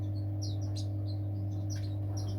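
A small aviary bird in a bird shed gives several short, high chirps at irregular intervals, fairly faint over a steady low electrical hum.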